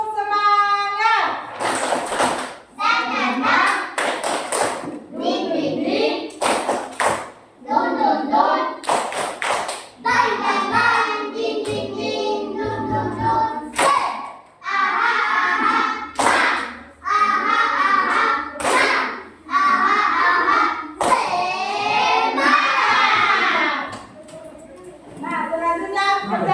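Classroom students perform a rhythmic 'tepuk semangat' clapping chant, sharp unison claps in patterned bursts alternating with loud sung and shouted children's voices.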